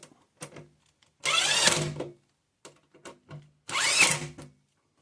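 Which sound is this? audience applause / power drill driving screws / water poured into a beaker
power drill driving screws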